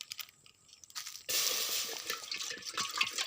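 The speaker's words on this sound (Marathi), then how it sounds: "आता तो पाणी ओतून घेणार आहे टोपामध्ये" After a short quiet moment, water gushes steadily into a metal cooking pot outdoors on a farm, filling it about half full, a loud continuous pouring splash.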